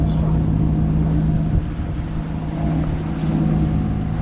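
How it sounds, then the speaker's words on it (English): A sailboat's engine runs at sea, giving a steady, continuous low drone with a constant hum, joined by wind noise throughout. "We've got the engine running still."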